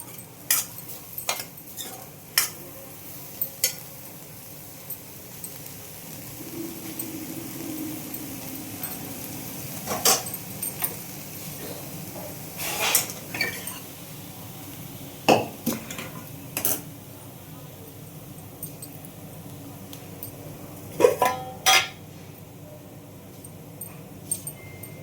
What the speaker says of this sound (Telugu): ఒక్కసారి కలిపేసుకుని నీళ్ళన్నీ ఎగిరిపోయినాయి.